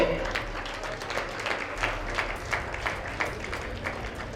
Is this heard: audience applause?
yes